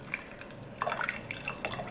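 Shaken matcha drink poured into a glass, a faint liquid trickle with light drips and splashes, quiet and close, with small clinks near the end.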